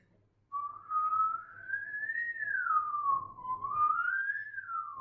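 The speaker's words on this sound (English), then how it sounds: "He's whistling, but it's auto-tuning." A person whistles a gliding melody run through auto-tune, giving a steady, pitch-corrected electronic tone that rises and falls smoothly and sounds up close, loud and alone.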